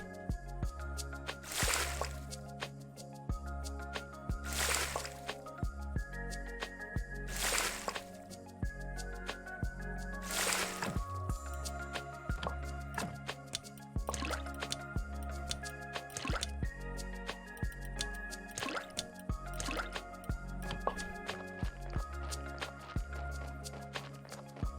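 Water is collected in the Graveyard Keeper video game, heard as soft liquid drips and squishy splashes repeating over a looping rhythmic game music track.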